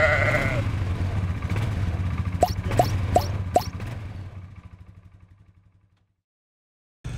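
Sheep bleat at a large Welsh sheep event, with a low crowd murmur and livestock noise underneath and four short, sharp, evenly spaced calls in the middle before the sound fades to silence.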